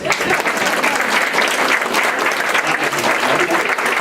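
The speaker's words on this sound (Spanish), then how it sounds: "Un fuerte aplauso para ustedes." Loud, dense applause from a large audience at a school emergency-preparedness panel, steady and sustained throughout without pause.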